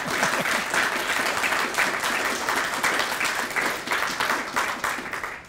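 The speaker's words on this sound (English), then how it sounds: "give him a big round of applause?" An audience at a university lecture event applauds warmly, dense and steady clapping from many hands filling the room for several seconds without a break.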